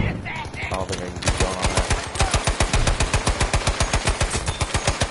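Machine gun cover fire in a video game shooter, starting after a brief lead-in and continuing as a loud, rapid, steady stream of shots close by.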